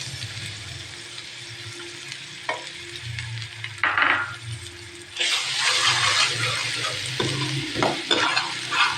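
Chopped ginger and garlic are stirred into onions frying in a pan for aloo matar, giving a loud continuous sizzle with scraping stirs of a spoon over a low kitchen hum.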